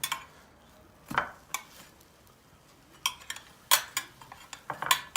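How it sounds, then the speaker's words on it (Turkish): A metal spatula scrapes and clinks against a pan while nudging meatballs. Sharp, separate taps and scrapes come at irregular intervals over a quiet background. "Şöyle hafiften bir spatulayla köftemizi yerinden oynatacağız."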